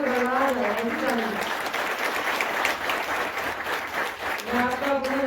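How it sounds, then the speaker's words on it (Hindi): A large audience at an inauguration ceremony with a cabinet minister breaks into loud sustained applause, a dense wash of clapping lasting several seconds, with a voice speaking over the start and the end. "एक बार जोरदार तालियां, बहुत जोरदार, जो आसमान की तरफ बढ़ा जाए ऐसी तालियां।"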